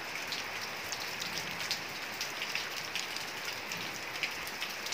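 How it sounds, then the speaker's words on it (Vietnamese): Heavy rain falling outdoors, a dense, constant hiss of drops striking surfaces with occasional sharper spatters, steady and fairly close, with no voices. "Ngoài trời mưa quá rồi luôn các bạn."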